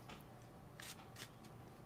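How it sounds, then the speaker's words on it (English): Playing cards are shuffled during a podcast recording, giving a few quick riffling bursts, soft and close against a steady background hiss, with no talk during it. "Roberto, why are you shuffling cards"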